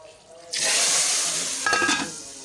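Cumin seeds hit hot oil with a sudden bright sizzle that holds steady for about two seconds, briefly swelling with a second burst of crackling near the end.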